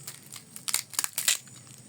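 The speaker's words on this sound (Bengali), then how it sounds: "একদম মুচমুচে ভাঙার সাথে সাথে কিন্তু কুড়মুড়ে আওয়াজ করতেছে" A crisp fried nimki snack snaps apart by hand in several quick crunchy cracks, close and fairly quiet, with no talk.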